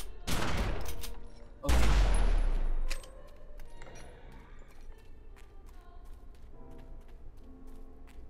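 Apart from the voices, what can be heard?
ranged weapon gunfire, Out for a Kill attack, The Secret World video game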